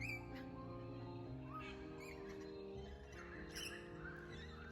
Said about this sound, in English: share the beautiful sounds of the birds